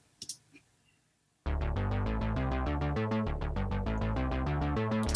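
Dry synth bass from an epic film-style track playing a rapid, evenly repeated staccato pattern alone, starting abruptly after a few soft clicks and staying loud and close.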